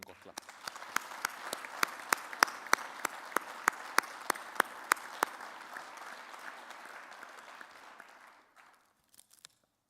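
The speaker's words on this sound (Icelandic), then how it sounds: "Gjörðu honum gott klapp." Audience at the Akureyri sports awards gala applauds an honoured athlete with a dense round of clapping, sharp individual claps standing out early, steady for about eight seconds before cutting off, a few stray claps after.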